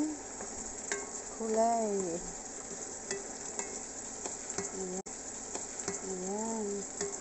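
Chicken wings adobo are stirred in a sizzling pan, a steady close frying hiss with scraping strokes of the spoon, while someone speaks briefly over it.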